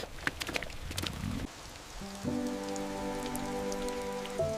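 Rain falls steadily in Grindelwald village in Switzerland, a soft continuous patter with scattered closer drips, later joined by a faint steady hum.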